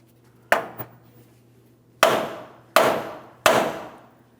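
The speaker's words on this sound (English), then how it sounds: "we'll continue on with a hammer. We're going to cause vibration directly on our knuckle" A hammer strikes the steering knuckle of a 2007–2014 GMC Sierra 2500 HD to shake loose the tie rod end. Four sharp metallic blows ring out, the first followed by a light rebound tap, each decaying quickly.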